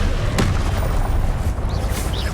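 A Confringo spell explosion in the video game Hogwarts Legacy: a sharp blast followed by a loud, sustained rumbling boom that fills the short moment.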